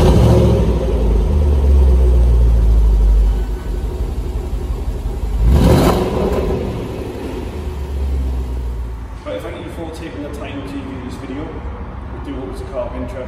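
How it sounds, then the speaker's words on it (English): A Land Rover Range Rover Sport SVR engine rumbles under talk, then revs sharply once through its switchable sports exhaust with a rising roar before settling back to a steady idle. "Another great feature for the SVR line is the sports exhausts, which is switchable."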